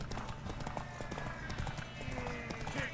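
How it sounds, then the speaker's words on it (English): Hooves clip-clop in a steady galloping rhythm during a horse race in The Witcher 3, loud and continuous with game music and faint voices underneath. "A ver cuánto aguanta el caballito este, si no se cansa antes de llegar a la meta"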